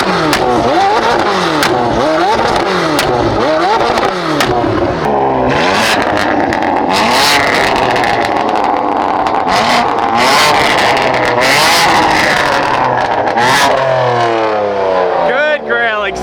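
A rebuilt BMW M4 engine revs repeatedly through its exhaust, loud and close, with rising and falling sweeps of acceleration and sharp blips, while voices talk over parts of it.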